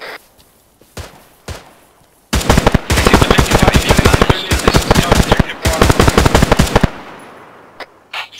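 Gunfire in a military video game: after a few scattered single shots, a loud, dense stretch of rapid automatic bursts rattles for about four seconds, then drops back to isolated shots.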